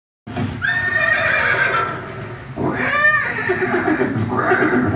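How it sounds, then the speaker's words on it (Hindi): A horse neighs loudly and close at Haldighati in Rajasthan, giving a long whinny, a shorter quavering one and the start of a third over a steady background rumble. "ये दृश्य महाराणा प्रताप और सुविख्यात स्वामी भक्त घोड़े चेतक के अंतिम मिलन का है।"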